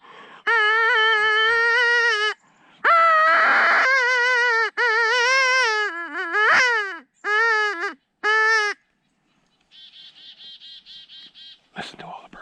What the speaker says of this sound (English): I'm gonna let out one more rabbit call just in case.